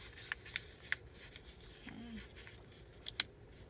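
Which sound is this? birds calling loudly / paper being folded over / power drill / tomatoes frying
paper being folded over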